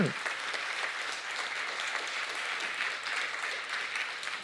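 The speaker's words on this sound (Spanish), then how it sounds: "Dele un aplauso fuerte al Señor" A church congregation applauds warmly, a continuous wash of many hands clapping at moderate distance, steady and full for the whole stretch.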